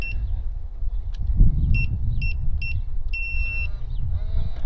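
Electronic beeps from an illuminated door lock keypad as a PIN is entered: several short two-tone beeps in a quick series, then a longer confirming tone, clear over a steady low rumble of background noise.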